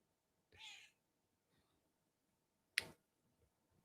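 A cat gives a short, faint meow, followed a couple of seconds later by a sharper second call, both quiet against a nearly silent indoor background.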